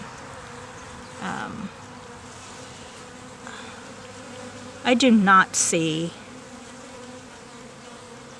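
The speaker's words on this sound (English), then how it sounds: "these bees are actually just robbing whatever is of value still in this hive" Continuous low hum of honey bees robbing an abandoned wild hive runs throughout, with brief spoken words near the end over the buzzing.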